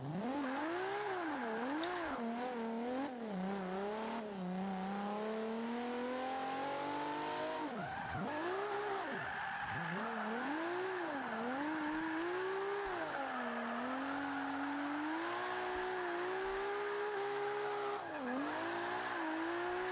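A car drifts around a track in Forza Motorsport 5, its engine wailing up and down through second and third gear with long tire squeals and sharp rev drops, loud and continuous with no talk.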